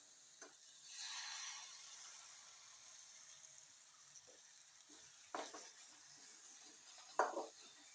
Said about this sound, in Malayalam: ഇത് നന്നായിട്ട് മുരിയട്ടെ കേട്ടോ.